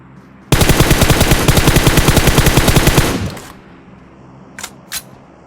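Rapid automatic rifle fire in PUBG Mobile rattles out as one loud, unbroken burst of about two and a half seconds, then cuts off, with two short faint clicks afterward.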